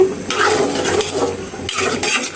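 A pot of cooked rice being lifted off a home stove while chicken curry cooks, with close metallic clanks and scrapes of pot and utensils in short bursts, no talking.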